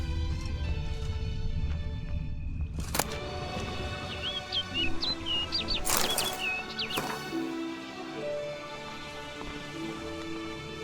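A bird chirps in The Witcher 3: Blood and Wine, a few short warbling calls over a soft sustained musical and ambient bed, with some sharp clicks nearby.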